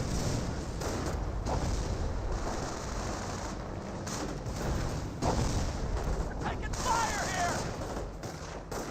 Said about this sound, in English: Frag grenade was thrown there.